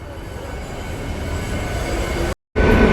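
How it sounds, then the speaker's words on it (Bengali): Inaugural special EMU train running from Amghata station toward Krishnanagar City Junction: a steady, close, loud rumble of wheels and carriages that cuts out briefly near the end, then resumes. "Amghata Krishnanagar inaugural special train Amghata rail স্টেশনের প্ল্যাটফর্ম থেকে ছেড়ে এই মুহূর্তে কৃষ্ণনগর সিটি জংশনের পথে"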